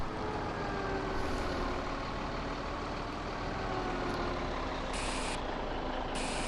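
A truck in Farming Simulator 17 backs up with its engine droning loudly and steadily, while a couple of short electronic reversing beeps sound near the end.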